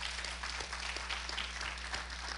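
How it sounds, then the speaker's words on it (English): An audience at a budget meeting gives a short burst of applause, steady and moderately loud over a low electrical hum. "can we have a warm round of applause for Mr. Stansky?"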